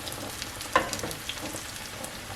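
A Japanese pancake frying in a pan gives a soft, steady sizzle with light crackles and one small pop, close by and without talk.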